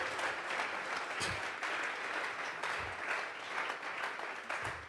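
A church congregation at a Tuesday Bible study breaks into sustained applause, a dense wash of clapping that rolls on for several seconds with a few louder swells and some voices mixed in.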